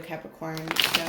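Brisk riffling of tarot cards being shuffled close by, a few quick bursts, with a person speaking over it.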